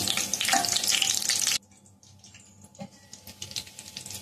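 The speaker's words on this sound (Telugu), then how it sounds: "నూనె కాగింది. కరివేపాకు, ఎండుమిరపకాయ వేసాను." Curry leaves and dried red chillies hit hot oil for a fish curry, a loud, crackling sizzle that cuts off abruptly, then settles into softer, intermittent spluttering.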